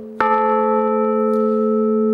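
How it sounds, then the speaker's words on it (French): A cathedral carillon bell struck by its clapper, pulled by a keyboard key: one clear strike followed by a long, steady ringing hum with bright overtones, alone and close. "en lançant une touche, on va tirer près de la cloche son battant"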